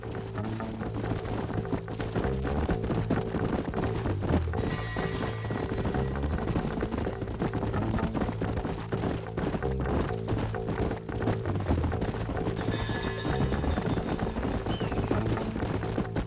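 Rhythmic clip-clop of horse hooves at a gallop in the Western open-world game Red Dead Redemption, steady and close beneath a continuous music score, with a brief whinny mixed in.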